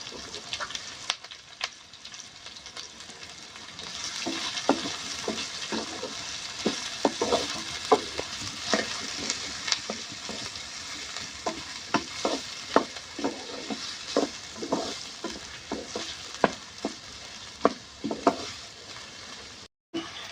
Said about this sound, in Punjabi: ਹਰੀਆਂ ਮਿਰਚਾਂ ਨੂੰ ਵੀ ਆਪਾਂ ਨਾਲ ਹੀ ਪਾ ਕੇ ਪਿਆਜ਼ਾਂ ਦੇ ਭੁੰਨ ਲਾਂਗੇ